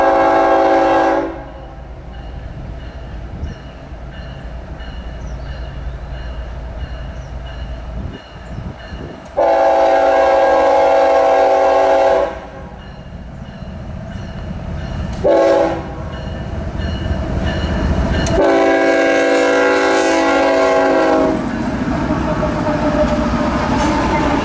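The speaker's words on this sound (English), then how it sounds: "just barely caught this CN intermodal train with an ex-City Rail leader" A CN intermodal freight train with an ex-CityRail leader passes close and loud, its horn sounding in several long blasts over the steady rumble of rolling wagons.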